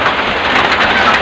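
Steady heavy rain falls on a duck egg farm, a dense continuous hiss that is loud and close, with no voices.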